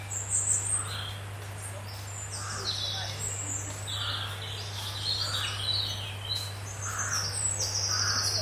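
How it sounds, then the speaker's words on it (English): A crow caws repeatedly in woodland, a series of rough calls at moderate distance, over a steady low hum, with other birds faintly in the background. "Can you hear the crow?"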